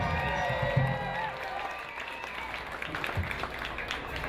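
A crowd at a live music event applauds and cheers, a dense wash of clapping that starts loud and tapers slightly while continuing throughout, with a voice talking over it near the start.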